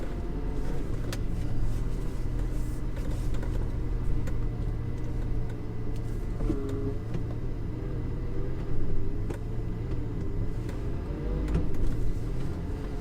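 Lamborghini Gallardo LP560-4 backing out, its engine giving a steady low rumble close by, swelling slightly now and then without strong revving.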